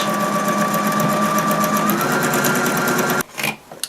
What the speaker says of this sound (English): I'm just going to sew along the folded edge of the inside, just as close as I can to that folded edge